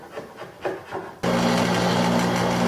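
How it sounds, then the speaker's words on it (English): A draw knife shaves the wooden ends of wheelbarrow handles in a few close, rasping strokes, then a loud steady machine drone with a low hum abruptly takes over. "the easiest way to make the ends round for the handles is to just use a draw knife"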